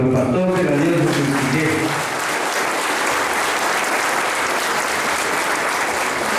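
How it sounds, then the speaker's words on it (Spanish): Congregation applauding to welcome the diocesan bishop at a Catholic confirmation Mass in the village church of Aldea Beleju, a dense, steady clapping from a large crowd filling the whole stretch, loudest at the start. "Brindémosle un fuerte aplauso, por favor, a nuestro pastor de la diócesis"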